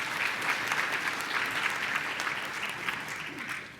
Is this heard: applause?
yes